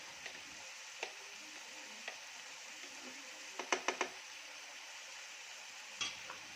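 Chicken and chopped carrot stir-fry in a pan, with a steady low sizzle and scattered sharp clinks and scrapes from stirring, including a quick cluster of taps midway.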